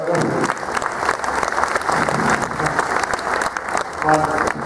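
Crowd applause fills an Australian show arena during a horsemanship display, steady and dense throughout, with a voice and some tonal sounds showing over it near the end.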